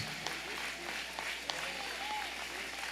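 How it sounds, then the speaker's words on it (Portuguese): A church congregation applauds with a dense, continuous wash of clapping for about three seconds, while a voice carries on over the top of it. "Aplauda ao Senhor com uma salva de palmas."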